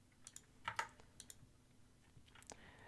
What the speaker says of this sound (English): I'm thinking about replacing it though, get a little bit of a quieter keyboard.